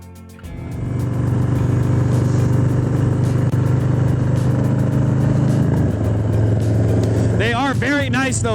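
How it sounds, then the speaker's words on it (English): A 2020 Harley-Davidson Low Rider S rumbles steadily and loudly while riding out through canyon country toward Vasquez Rocks, the engine drone constant under wind, with a voice speaking briefly near the end. "I love riding my Harley through canyons like this"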